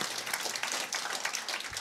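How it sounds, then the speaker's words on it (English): An open mic night audience at a music club claps for the performer Caitlin, a dense, steady burst of applause heard close and alone. "Another round of applause for Caitlin"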